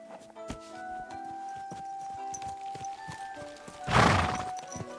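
Hooves clip-clop at a steady walking pace in the video game Kingdom Come: Deliverance II, amid game-like tones and chimes, ending with a louder burst of noise near the end.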